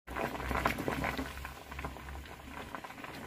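Lentils boiling in a pot for a bean and lentil bassaru, a close, bubbling patter of small pops and gurgles over a low simmering rumble, continuous and fairly soft.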